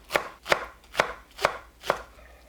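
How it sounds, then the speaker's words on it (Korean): Five crisp knife chops through green onions land on a cutting board at a steady, unhurried rhythm, close and clear with no talk. "파를 짧게 썰어줍니다."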